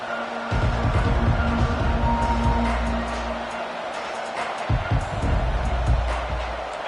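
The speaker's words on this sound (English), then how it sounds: "This crowd bringing an ear-splitting welcome to their visitors." A stadium crowd at a college football game, Clemson against Michigan, roars with a loud, sustained, broadband din that dips briefly and swells again.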